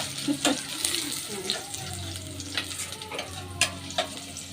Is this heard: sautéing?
yes